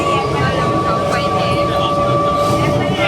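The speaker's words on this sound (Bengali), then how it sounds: "তো তখন আমরা ট্রেনে আসছি" Loud, constant rumble and rattle inside a moving train heading from Kolkata to Chandannagar, with a steady whine throughout and voices faintly mixed in.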